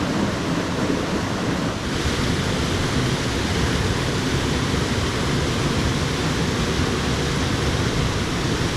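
Steady rushing of a waterfall into a pool on Dartmoor, a dense broadband roar that stays constant and fairly loud, with some wind buffeting mixed in.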